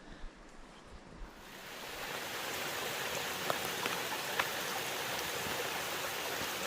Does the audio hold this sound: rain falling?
yes